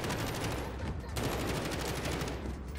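Incendiary-round gunfire in Modern Warfare, a dense, loud rapid burst of automatic shots hammering continuously for a few seconds at close range.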